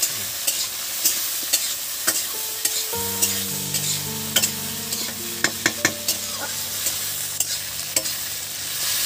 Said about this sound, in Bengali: এটাকে একটু ভালো করে প্রথমে আমি ভেজে নেব